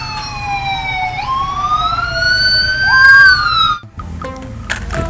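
A bright electronic toy police car siren wails, sliding up and down in pitch, loud and close, then stops suddenly before a short burst of clattering noise.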